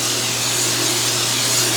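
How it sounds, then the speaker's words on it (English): Cooking spray hisses from an aerosol can into 9 by 13 baking pans in a kitchen, a close, steady, unbroken spray with no talking. "I'm gonna spray the bottom of my pans here. I'm gonna spray them real good, 9 by 13."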